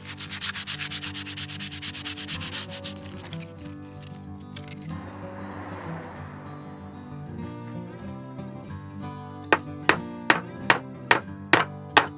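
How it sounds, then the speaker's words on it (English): Steady rough sanding scrapes across old hardwood planks, removing mold and rotten wood, then several sharp knocks ring out in a quick even series near the end. "It just needed some touching up, like sanding off the mold and rotten wood."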